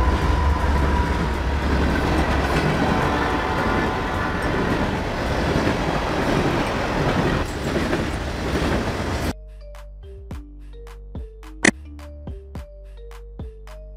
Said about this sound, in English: Freight train, a train dedicated to transporting goods from one location to another.